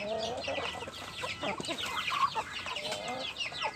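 Indonesian village chickens (ayam kampung) on a home-scale farm cluck in a steady, busy chorus of overlapping hen calls, moderately close and continuous throughout, with no voices.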